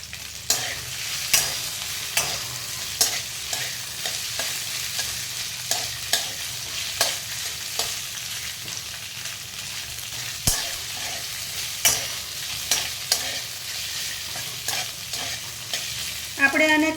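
Capsicum and onion stir-fried in a pan for veg Manchurian, a constant sizzle broken by regular scraping strokes of a spatula, close and steady with no talk.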